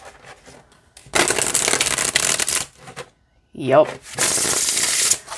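A deck of tarot cards with gold-edged, quality cardstock is riffle-shuffled twice, each a loud, dense fluttering burst of about a second and a half, with a brief spoken word between them.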